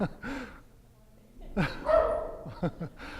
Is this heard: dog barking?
yes